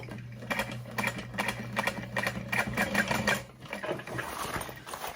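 A sewing machine stitches a seam on a bowler bag in a steady rapid run of needle strokes, close and clear, before stopping briefly and starting again near the end.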